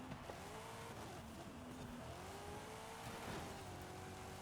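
A car with a 6.2 liter V8 engine races in the video game Forza Horizon 5, its engine note droning and rising and falling through gear changes, fairly quiet under a steady roar of tires and wind.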